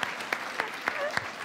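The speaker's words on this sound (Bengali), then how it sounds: "Round of applause! সবাই অনেক লম্বা একটা তালি দাও আমাদের" Studio audience on the talk show What a Show! applauds a newly married couple, with sparse, distinct claps at a steady rhythm rising above a soft, sustained patter of hands and a faint hum of voices.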